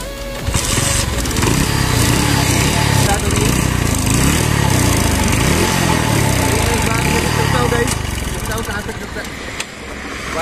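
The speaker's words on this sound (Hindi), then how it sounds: "बाइक अभी स्टार्ट हो गई है" A Hero Honda CD 100SS motorcycle engine runs loud and close, with an uneven, revving putter that rises and falls throughout before easing slightly near the end, while someone talks over it.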